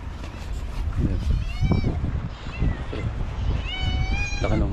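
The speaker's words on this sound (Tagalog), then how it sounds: "Pusa." A cat meows a few times at close range during an outdoor fishing trip, with low background rumble and occasional talk nearby.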